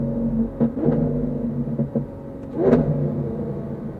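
A Lamborghini Aventador engine rumbles and revs in short bursts, with a louder rising rev near the end, heard close and alone without talk.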